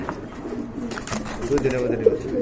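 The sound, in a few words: pair of pigeons cooing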